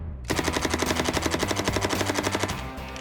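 An Uzi submachine gun fires one continuous burst of about two seconds, very loud and close, with rapid evenly spaced shots and a brief ringing tail, with no voices.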